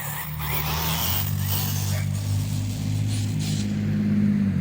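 ARRMA Typhon 6S rear-wheel-drive RC car driven hard and jumped off a ramp, its motor whining steadily under continuous loud drivetrain noise and someone talking throughout.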